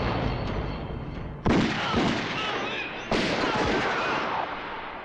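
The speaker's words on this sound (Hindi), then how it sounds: "तुमने हम पर गोलियां चलाई" Two sharp, loud film gunshots about a second and a half apart, each followed by a dense, noisy tail of echoing gunfire and rumble.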